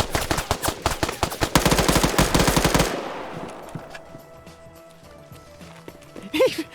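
Rapid gunfire in the Arma 3 video game during a PvP tournament match, a dense, loud run of shots that stops abruptly at about three seconds, followed by quieter ambient game noise.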